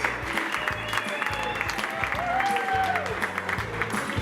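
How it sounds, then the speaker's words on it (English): Audience applause at a fine dining awards ceremony, steady clapping from a crowd over background music with chatter mixed in, sustained across the whole moment. "Let's give a round of applause."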